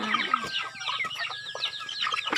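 Chickens on a small poultry farm give a busy chorus of clucks and short squawks from several birds nearby, continuous and overlapping.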